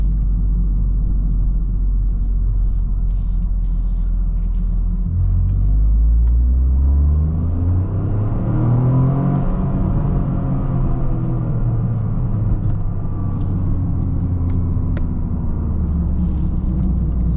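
A 2023 Toyota GR Corolla, the AWD rally-bred hatch, revs up through the range with quick short shifts, its engine note rising and dropping in steps over a steady loud road rumble from inside the cabin.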